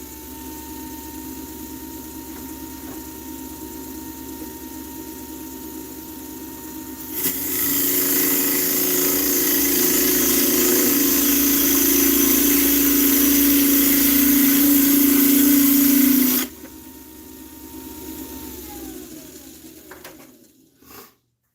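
A wood lathe turns a walnut blank, its steady motor hum rising into a loud, continuous rushing roar for about nine seconds before dropping back to the hum and winding down.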